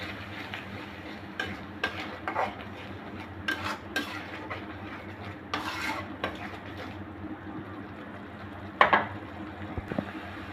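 A spoon stirs spice masala with milk powder in a pan while cooking prawn biryani, giving soft scraping and occasional clinks of metal against the pan over a low, steady background, with no talking.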